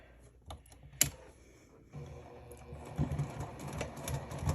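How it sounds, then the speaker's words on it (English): A sewing machine stitches around the whole perimeter of a zipper. A sharp click comes first, then a steady mechanical whir builds and runs close by to the end. "So we're going to sew around the entire perimeter so we can keep the zipper in place."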